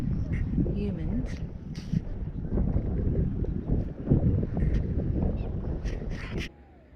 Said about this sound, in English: we have a westerly wind blowing